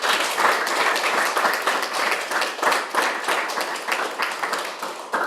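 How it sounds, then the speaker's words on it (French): A Sunday church congregation applauds in praise, dense rhythmic clapping that swells and pulses steadily, fairly close, tapering slightly toward the end. "Applaudissons pour glorifier notre Seigneur"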